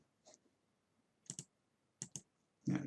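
Short bursts of keystrokes on a computer keyboard while working in Stata, a few separate clusters of clicks spread over a quiet room, fairly faint, with a louder clatter at the end and no talking.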